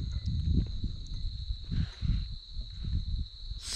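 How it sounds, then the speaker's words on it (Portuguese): Crickets in the Amazon forest keep up a steady, high insect drone throughout, over low, irregular thuds and rustling close by; no distinct birdsong stands out. "Grilo, passarinho."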